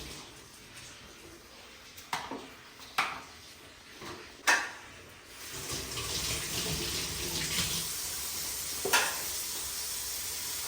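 Tap water running steadily as plantains are washed to remove mud, with a few sharp handling knocks early on before the flow grows fuller and louder, no talking.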